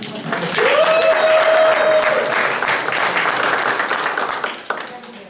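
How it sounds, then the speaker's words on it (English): A crowd applauds and cheers to welcome a storyteller at a museum event, loud clapping swelling quickly and tapering off over several seconds, with a short whistle-like tone early and voices underneath. "So please give her a warm welcome and cheer periodically."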